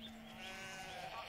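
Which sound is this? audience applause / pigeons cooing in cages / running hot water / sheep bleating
sheep bleating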